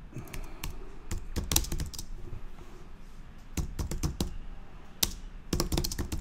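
Typing on a computer keyboard, close and clear: quick bursts of key clicks broken by short pauses, with no voices.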